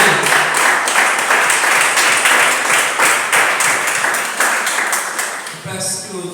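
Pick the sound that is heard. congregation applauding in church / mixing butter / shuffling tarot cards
congregation applauding in church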